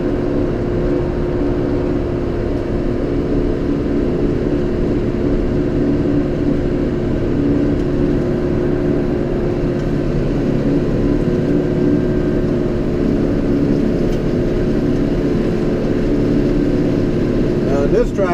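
A John Deere 5R tractor engine runs at a steady, close, continuous drone with no breaks, its low rumble holding level throughout.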